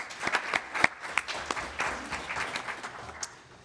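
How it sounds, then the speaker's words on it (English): Audience applause at a 2024 Portland mayoral debate, moderate and scattered at first with distinct individual claps, then blending into a steadier round. "That's worth a round of applause."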